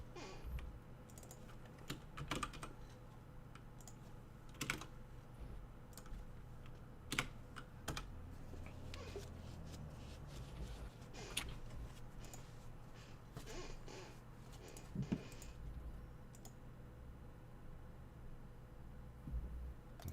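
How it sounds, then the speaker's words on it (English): Typing on a computer keyboard during an online staff meeting: irregular bursts of close, crisp keystrokes with short pauses run throughout, over a faint steady background hum and with no talking. "So assume Zoo just typing."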